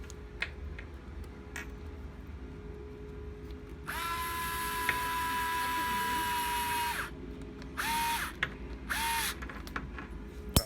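A power driver runs in battery tray screws on a TRX4 RC truck: one long, steady, close whir, then two short bursts, over a low background hum.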